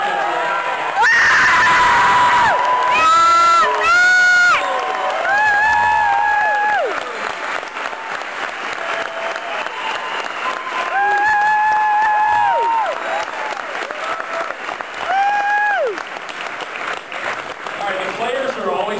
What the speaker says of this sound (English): you have to give him a little extra round of applause